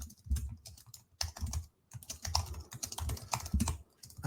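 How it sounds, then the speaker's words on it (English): Fingers typing on a computer keyboard in quick irregular bursts of close, soft clicks with short pauses between, quiet overall and without talk. "I'll just type it in there."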